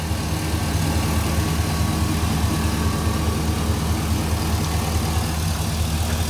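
Chevrolet Silverado 2500 work truck, 2003, with a V8 idling under an open hood, a loud, steady, smooth low rumble with an even rhythmic pulse and no voices.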